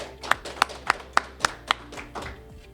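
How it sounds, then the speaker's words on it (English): Seven crisp, evenly spaced hand claps ring out close by in a quick steady rhythm, then fade, with no talking, following a call for applause at a virtual press conference for new companies. "Let's give them all a big round of applause."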